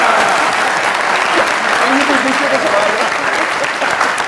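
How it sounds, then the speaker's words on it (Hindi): Steady, loud applause from a studio audience at a comedy talk show, filling the whole stretch with dense clapping while a voice is briefly heard through it. "इसके ऊपर भी 2 बार तालियां होनी चाहिए।"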